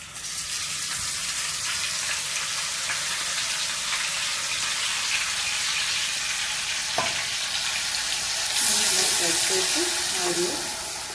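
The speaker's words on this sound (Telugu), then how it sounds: "పూర్తిగా ఫ్రై చేసుకొని అది ఇది కలిసేలాగా పచ్చివాసన పోయేదాకా వేసుకోవాలి" Bitter gourd masala fries in oil in a home kitchen pan, a continuous crackling sizzle with a few stirring scrapes, and a brief burst of running tap water near the end.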